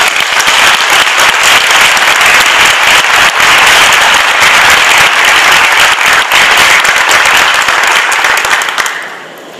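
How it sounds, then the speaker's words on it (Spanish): Loud, sustained applause from an audience at a formal academic tribute ceremony, many hands clapping in a dense wash for nearly ten seconds before tapering off at the end. "doctora Margarita Beatriz Luna Ramos, para quien pido en este momento un fuerte aplauso"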